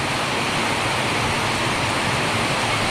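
Very heavy rain pouring at night over a cockatiel aviary, a dense, loud, unbroken roar of downpour with no gaps.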